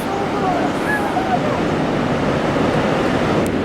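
Ocean surf on an island shore washes steadily with a constant sea breeze rushing across the microphone, a continuous loud wash of water and wind noise.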